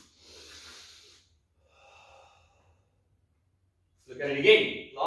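Controlled karate kata breathing: a long forceful exhale, a pause, a softer breath, then a loud sharp gasping snort after a stretch of silence, each breath close and isolated.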